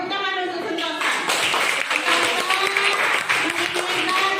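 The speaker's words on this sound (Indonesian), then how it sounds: "Oke, tepuk tangan untuk Sentosa." Students in a classroom give a dense burst of clapping for a classmate, lively and fairly close, with voices mixed in throughout.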